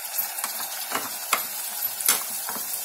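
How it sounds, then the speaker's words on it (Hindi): Spice paste fries in hot oil in a pan for stuffed eggplant, a soft continuous sizzle broken by scraping stirs from a spoon; close and fairly quiet, with no talking. "पैन में मैंने ऑयल गरम किया है, ये मसाला डाल देते हैं।"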